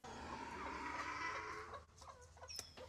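Up close, a chicken in a cage on a farm clucks in a run of quick, throaty calls, then gives a few sharper squawks as the sound thins out.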